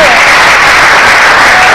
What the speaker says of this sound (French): Est-ce qu'on peut applaudir tout ça